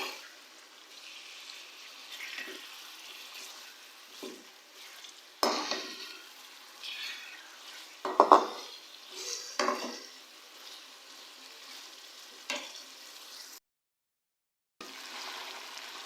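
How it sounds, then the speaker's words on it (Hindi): Chicken fries in a pot for degi chicken pulao, stirred with a spoon that scrapes and knocks against the metal over a low sizzle, irregular strokes at close range, fairly quiet, with a brief gap of silence near the end. "अब हम चिकन को अच्छे से भूनेंगे"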